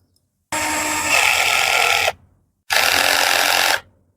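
A power tool driving a nut tight on an electric fan, two loud whirring bursts of about one and a half and one second separated by a short pause, close up.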